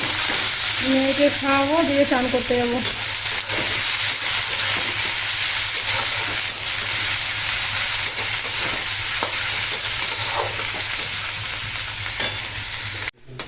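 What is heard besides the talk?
frying chickpeas with onion in a pan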